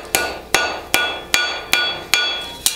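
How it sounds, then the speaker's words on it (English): A farrier strikes a horseshoe with a hammer while pulling quarter clips, giving seven sharp, ringing metallic blows at a steady rhythm, loud and close with no talk. "I hammer around that spot, point the tongs at the opposite side"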